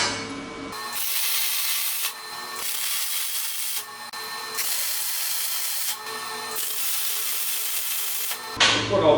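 Angle grinder chamfering the edges of metal bars ahead of welding for an outdoor fireplace grilling rack, steady loud grinding in several long passes separated by brief pauses.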